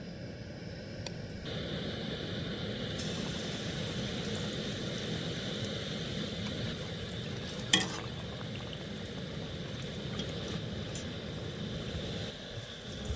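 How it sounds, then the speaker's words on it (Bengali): Batter-coated ripe banana fritters deep frying in oil: a dense, even hiss of bubbling oil holds steady for the whole stretch, with one brief clink midway and no talking. "এবার আমি আবার এখানে ডিপ করে কোট করে নেব। আমি আবার ভেজে নেব।"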